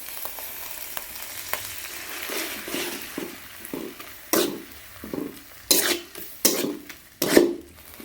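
Chopped onions and ground masala frying in a pan for chicken curry sizzle steadily while a spatula stirs and scrapes in a run of loud, close strokes. No voices.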